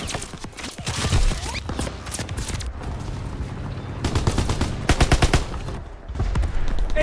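Rapid gunfire from a Call of Duty WWII multiplayer match, with bursts of automatic fire and sharp single shots cracking in clusters over a busy battlefield din, loud and close.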